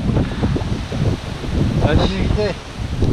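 Strong wind buffets the microphone on an exposed stretch of Martinique coast during a trail race, a rough continuous low rumble with gusts, and a voice speaks briefly over it.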